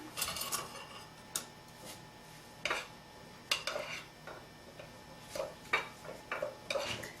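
Ingredients mixed together in a bowl: a series of irregular clicks and scrapes of a utensil against the bowl, sharp and close, spaced unevenly with quiet gaps between them.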